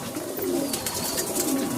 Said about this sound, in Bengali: ওই যে আবলুক পায়রাটা, এগুলো নর পায়রা।